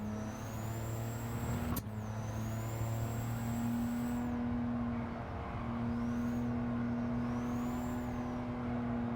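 A Honda S660 racing at Autopolis in Gran Turismo 7 holds a steady, loud engine drone at near-constant pitch, with a sharp click early on and tire squeals rising and falling over the hum.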